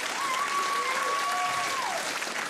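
Audience at a stand-up comedy show applauding steadily for about two seconds, a dense even clatter of many hands filling the room, with a faint tonal whine running underneath.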